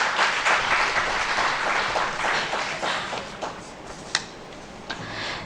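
Audience applause at an agricultural university's valedictory ceremony for a horticulture conclave, a broad, steady wash of many hands clapping that tapers slightly toward the end with a few sharper isolated claps.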